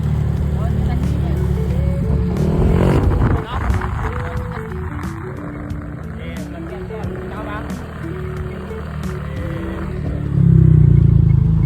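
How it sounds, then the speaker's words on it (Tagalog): A kolong-kolong motorcycle sidecar engine runs close by, a buzzing drone that rises and falls in pitch as it revs, louder near the end, with a voice talking over it. "hiniram nga pala namin tong kolong-kolong ng pinsang kong kalbo"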